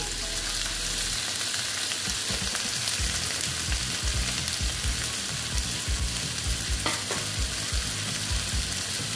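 Eggplant pieces fry in hot oil in a pan, a steady loud sizzle running throughout with occasional stirring clatter, no voices.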